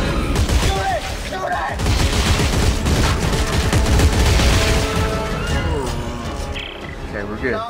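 Dense, rapid gunfire in the Dead Space 3 video game, loud continuous bursts layered with game effects and excited players shouting over it.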